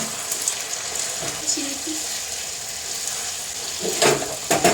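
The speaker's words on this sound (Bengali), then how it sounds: "এবারে মাছের পকোড়াটা দিয়ে দিচ্ছি" Fish pakoras for a chilli fish sizzle quietly in a pan, with a low steady frying hiss, a few soft knocks and a brief clatter near the end.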